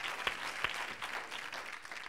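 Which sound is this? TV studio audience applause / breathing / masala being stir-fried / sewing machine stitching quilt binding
TV studio audience applause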